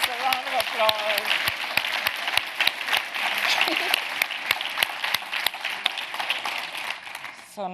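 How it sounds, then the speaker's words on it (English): An audience at an inspirational Gen Z event applauds. The clapping is dense and steady for about eight seconds, with some distinct sharp claps near the front and a voice briefly heard at the start. "I think that deserves a round of applause."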